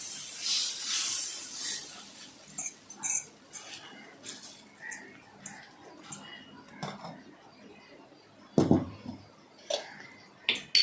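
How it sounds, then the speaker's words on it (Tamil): Dosa batter hits a hot indalium tawa with a loud sizzling hiss for the first couple of seconds, followed by quieter sizzle and scattered metal clinks and scrapes of utensils. "நம்ம ரெண்டாவது தோசை ஊற்றலாம் நடுவில் கொஞ்சம் திக்காக வச்சுக்கோங்க"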